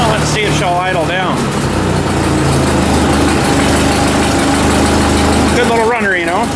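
A Ford 2N tractor engine idles steadily and loud throughout, a continuous low rumble with someone talking over it at the start and end.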